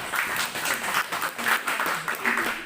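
Applause from a room of university students at a public speaking training session, a steady wash of many hands clapping at moderate distance with voices mixed in.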